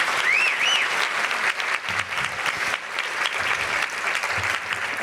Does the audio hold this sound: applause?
yes